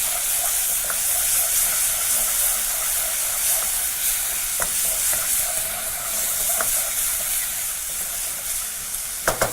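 Onions sizzle and crackle steadily in a hot pan, a constant bright frying hiss with occasional stirring clicks.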